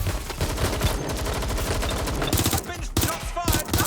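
Rapid, dense automatic gunfire fills a firefight in the video game Watch Dogs Legion, with loud, close bursts that run almost without pause and a few short breaks between volleys.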